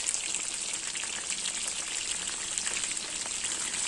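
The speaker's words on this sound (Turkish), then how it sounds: "Köfteleri kızarttıktan sonra yanına da biber, domates, sevdiğiniz sebzeleri de kızartabilirsiniz" Meatballs frying in a pan give a dense, even hiss and crackle, close and steady throughout with no talk over it.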